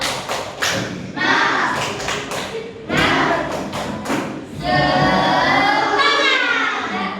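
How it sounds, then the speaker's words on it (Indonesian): Schoolchildren in a classroom perform a rhythmic clapping chant, loud thumping claps mixed with their chanting voices in quick, patterned bursts. "Yuk, tepuk semangat."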